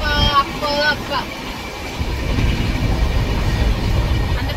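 Train running as heard from inside a sleeper carriage on an overnight trip to Bangalore: a steady low rumble and rattle fills the whole stretch, with a brief harmonic tone near the start and no clear speech.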